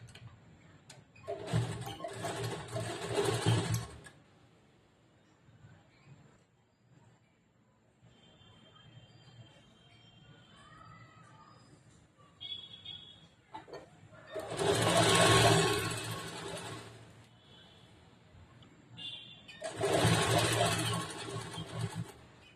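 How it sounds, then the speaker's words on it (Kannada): Sewing machine stitching along the folded edge of blouse fabric, running in three loud bursts of rapid mechanical whirring with quieter pauses and handling sounds between them. "ಫೋಲ್ಡ್ ಮಾಡ್ಕೊಂಡು ಈ ಕಡೆ ಸೈಡ್ಗೆ ಸ್ಟಿಚ್ ಮಾಡ್ಬೇಕು."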